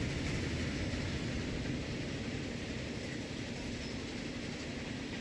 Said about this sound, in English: I'm just going to move that train forward.